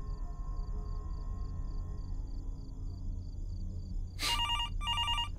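A telephone rings in the horror video game Fears to Fathom, a few sharp electronic bell bursts arriving near the end after steady ambient hum, loud and close.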